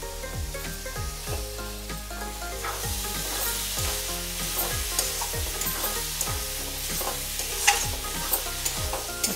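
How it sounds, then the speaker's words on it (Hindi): A jackfruit curry stirred in a pan after green coriander goes in, with a steady sizzle under repeated rhythmic scraping strokes of a spoon, close and even, no voices. "चला लेंगे एक बार।"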